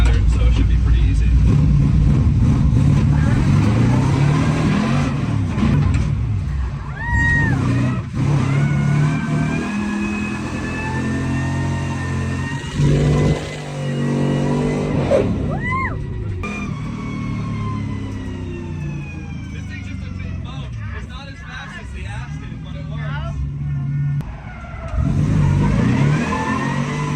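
A car engine fitted with S7 Gen V independent throttle bodies revs repeatedly, loud and close, with rising and falling pitch sweeps between bursts, mixed with mechanical noise and some voices around it.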